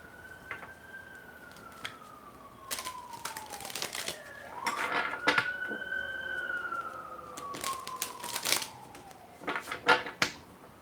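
Tarot cards are shuffled in quick crisp flurries of riffling and slapping, close by, while a siren wails faintly in the distance underneath; no talk.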